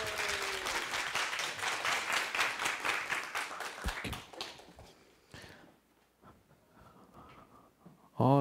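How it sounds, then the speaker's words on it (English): An audience at a WordCamp Asia 2024 public speaking masterclass claps to welcome the speaker on stage, a brisk round of applause that fades after about four seconds into quieter room noise and a few scattered claps. "Please welcome with the claps."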